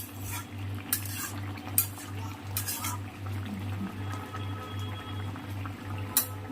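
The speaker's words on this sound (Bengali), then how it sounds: "আলু ঘেঁটে দেবো, ঘেঁটে দিলাম।" Potatoes being mashed into a simmering fish curry with pumpkin greens stalks, heard as a steady low bubbling hum with scattered clinks and scrapes of a spoon against the pot, close and moderately quiet, with no talking.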